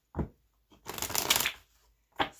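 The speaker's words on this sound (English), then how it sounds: "Alright, one more shuffle." Tarot cards being shuffled close up: a quick riffle, then a longer flurry of flapping cards, and a final short snap.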